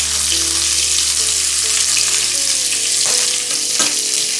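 Green chillies drop into hot oil tempered with mustard seeds and cumin, setting off a loud, dense, continuous sizzle close up, with a couple of brief stirring scrapes near the end.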